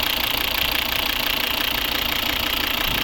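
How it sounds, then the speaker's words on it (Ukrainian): Steady, rhythmic diesel clatter of a 2013 Volvo V60 AWD with the 2.4 D4 engine idling, heard up close and continuous with no talking. "Ось робота двигуна."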